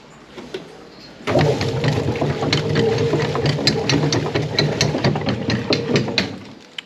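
Barn manure transporter running in freezing weather, starting abruptly and holding a steady mechanical rumble with rapid repeating clanks and ratcheting, close by, before cutting off at the end.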